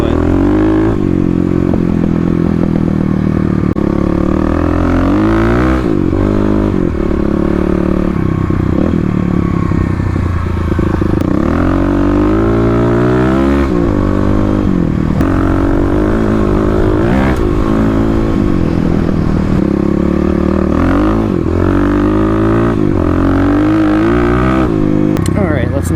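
Stage 3 Kawasaki KLX351 dual-sport motorcycle ridden through city streets, its engine loud and close throughout, revving up and down in pitch with gear changes and throttle blips, joined by wind rumble.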